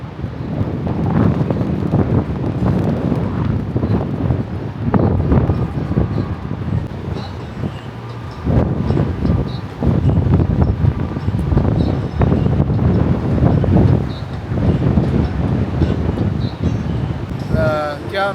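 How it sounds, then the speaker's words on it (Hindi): Strong wind roars across the microphone at Khab Sangam in Spiti, the Sutlej and Spiti river confluence, a loud, continuous buffeting rush with gusty surges throughout, with voices partly audible underneath. "यहाँ पे इतनी तेज हवाएं चल रही है"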